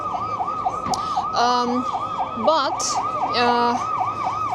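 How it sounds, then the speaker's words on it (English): An ambulance siren wails on a Moscow city-centre street, loud and close, its steady rising-and-falling tone broken by short horn-like blasts, with traffic rumble beneath and a brief spoken word. "Okay, here we have an ambulance."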